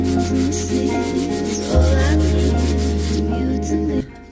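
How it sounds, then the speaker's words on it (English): Steady abrasive rubbing of sandpaper on wood, close and continuous, with a brief change in stroke partway through before it stops near the end. "Does anybody actually like sanding?"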